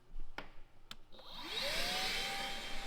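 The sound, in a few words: vacuum cleaner sucking out mouse nest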